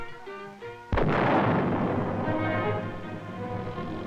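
A single loud artillery round fires about a second in, a sharp blast followed by a long rumbling decay, heard after a stretch of tonal music in the background.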